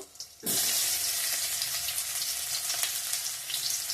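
Onion, dry red chilli, bay leaf and ginger hit hot oil for an egg curry, bursting into a loud, steady sizzle that carries on without pause at close range.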